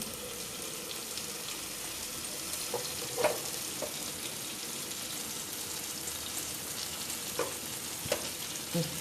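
Menemen eggs with kaşar cheese cooking in a covered pan, a quiet, steady sizzle and fry with a few faint clinks, no talking.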